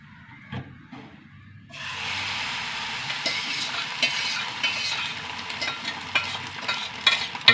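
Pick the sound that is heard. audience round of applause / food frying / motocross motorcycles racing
food frying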